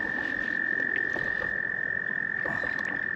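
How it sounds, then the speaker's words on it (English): Group of frogs calling near a pump house by the water, a steady chorus of croaks with a constant high-pitched trill running through it, moderately loud and nearby. "so you have a bunch of frogs over here"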